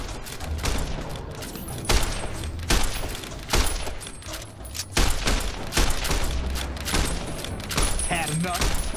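Gunfire in the video game Fallout: New Vegas, a series of loud, sharp shots repeating about every second over ongoing game ambience.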